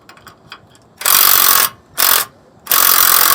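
A ratchet wrench tightens the bolts on a Curt wheel chock mounting bracket, giving faint clicks first, then three loud, close ratcheting bursts with short pauses between them.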